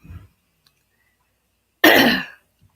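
A single throaty cough with a rasp of throat clearing, loud and close, following a short soft sound and otherwise surrounded by quiet, from someone with an itchy throat.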